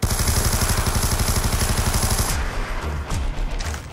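Rapid automatic gunfire in Black Ops II zombies mode on the Farm map, a loud sustained burst of tightly spaced shots that breaks off into scattered clatter after a couple of seconds.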